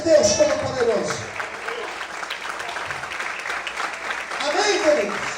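Church congregation applauding during a sermon, a steady broad clapping that swells at the start and again near the end, with a voice briefly audible over it.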